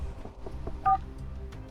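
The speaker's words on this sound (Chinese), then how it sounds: "我可以现在打电话给霍家长子霍有辰" A telephone number is dialled, giving a short run of distinct touch-tone beeps, one louder tone standing out, close and clear with no talking.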